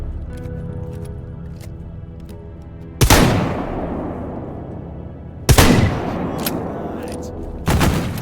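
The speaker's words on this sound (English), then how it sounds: "Ah, you're shooting at me now." Three sharp gunshots aimed at the player crack out at spaced intervals in the video game STALKER GAMMA, each echoing and fading, above a low rumbling background.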